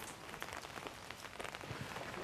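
Rain falls steadily outside on a street on a rainy day, a soft, even hiss of drops with faint scattered taps, quiet and unbroken by any voices.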